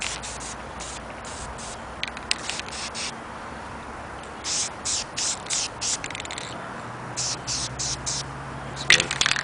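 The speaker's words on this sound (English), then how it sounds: "I can just test my spray paints out on it." A spray paint can sprays onto a PVC rack in short hissing bursts, some quick and some longer, spread over several seconds in a quiet workspace.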